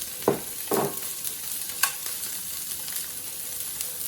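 Onion frying in vegetable oil in a large electric fry pan: a close, even sizzle with a couple of brief utensil scrapes near the start, no talking.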